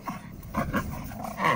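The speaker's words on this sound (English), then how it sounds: "Now it looks like the Frenchie's on a leash and we have the bigger dog tied off to a tree or something." A French bulldog and a bigger dog meeting face to face on leashes, short huffs, snorts and low grumbling vocal bursts coming in quick irregular pulses close by.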